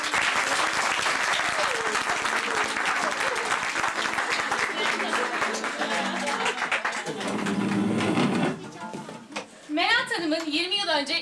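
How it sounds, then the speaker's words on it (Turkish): Studio audience at a television cabaret show breaking into loud sustained applause, with music playing beneath it, before the clapping drops away near the end as a voice speaks. "Şimdi alkışlarınızla sahneye Melat Hanım'ı davet ediyorum."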